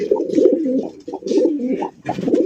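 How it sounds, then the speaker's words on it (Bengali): Racer pigeon of large size cooing repeatedly at close range in three rolling bursts separated by brief pauses, with no talk over it. "ডাক দেখেন বাইরে ভাই"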